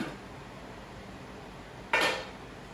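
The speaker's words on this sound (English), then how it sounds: "No canning video is complete unless you take it out of the canner." Glass canning jars of pepper relish being lifted out of a canner, a single sharp clink of glass against metal after quiet kitchen background, close and brief.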